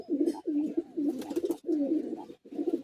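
A Madrasi high-flying pigeon coos repeatedly, close by, in a steady run of low throaty coos separated by short pauses.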